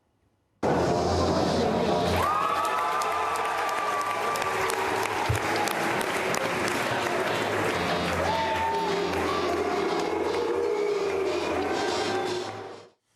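A political rally crowd reacting loudly, a continuous roar of voices and clapping with some sustained shouting tones, starting abruptly and cutting off at the end.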